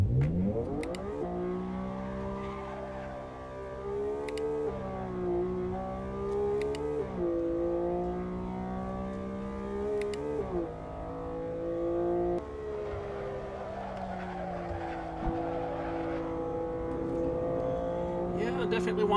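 A car driven around Brands Hatch in Assetto Corsa, its engine revving up and dropping repeatedly through gear changes with rising and falling pitch, steady and close, with someone talking over it.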